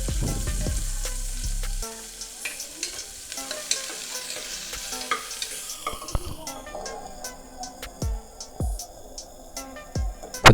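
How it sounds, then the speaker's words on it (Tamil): Crushed small onions fry in a pan with spices, giving a steady sizzle broken by scraping stirs and sharp clinks of the spoon against the pan, with a faint trickle of water in the background. "இப்போ வெட்டி வச்சிருக்கிற சின்ன வெங்காயத்தை சேர்க்கலாம்."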